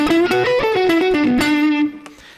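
Electric guitar through a drive distortion effect, a string of sustained, buzzy notes picked in a loose melodic line that ring out and fade at the end, close and loud.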